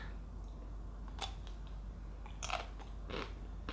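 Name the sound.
biting into Magnum Double Chocolate Hazelnut ice cream bar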